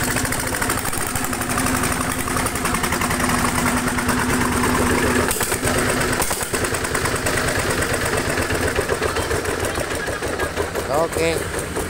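Diesel engines in a double-engine setup, a mining-type 1125 beside a home-industry 1115, idle with a rapid loud knocking chug throughout while someone talks over the running engines.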